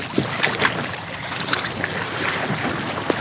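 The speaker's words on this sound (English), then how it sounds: "These are the roughest waves on the river." A kayak pushes through the roughest waves on a river, with steady splashing and slapping water close by, scattered sharp spatters and a constant wash of wind over the whole stretch.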